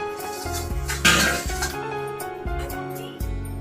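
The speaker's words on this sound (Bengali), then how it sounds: "এই যে খুন্তি দিয়ে আমি নাড়ছি, ভিতরে টাইট হয়ে আছে" A spatula stirring rice in a frying pan, with metallic scrapes and clinks against the pan in an uneven rhythm, close and moderately loud.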